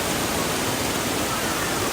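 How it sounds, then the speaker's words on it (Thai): A waterfall in Taiwan roars as a dense, unbroken wash of falling water, loud and steady throughout with no break. "น้ำตกสวย แห่งเมืองไต้หวัน"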